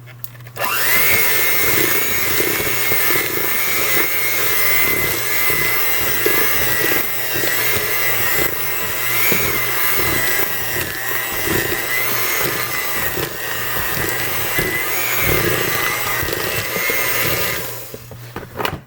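An electric mixer whirs steadily through chocolate chip cookie dough in a bowl, a loud, close motor drone with slight wobbles as the beaters work, starting and stopping abruptly.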